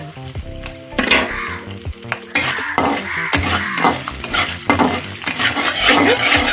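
Slit green chilies frying and being stirred in a pan for lemon rice, loud crackling sizzle with repeated metallic spatula scrapes and clinks against the pot, no voices.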